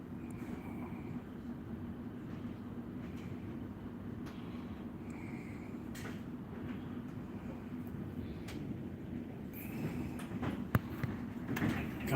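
Train arriving at Frankston station, a faint, steady low rumble of carriages rolling in with occasional clanks and brief higher squeals, growing slightly louder near the end.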